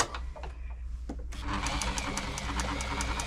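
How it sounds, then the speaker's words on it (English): A Bernette b35 sewing machine runs steadily after a brief quiet start, its needle mechanism stitching zigzag then straight stitch with a fast, even mechanical whir and rhythmic clatter, close and continuous. "So that's your zigzag, that's your straight stitch, that's in the centre"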